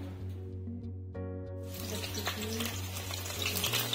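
Mustard oil heating in a pan on the stove starts to sizzle and bubble under a low steady hum, the frying hiss rising and growing denser partway through.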